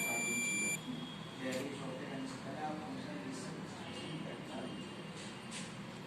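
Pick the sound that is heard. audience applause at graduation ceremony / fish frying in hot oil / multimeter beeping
multimeter beeping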